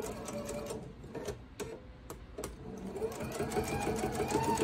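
Sewing machine stitching quilt pieces with a leader and ender scrap, running in steady, close, continuous bursts of rapid mechanical needle clatter with brief pauses.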